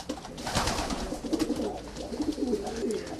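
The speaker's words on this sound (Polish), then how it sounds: "To jest gołąb, który był najlepszym lotnikiem" Pigeons in a racing-pigeon loft give soft, rolling coos in repeated short phrases, close and moderately loud against a faint background rustle.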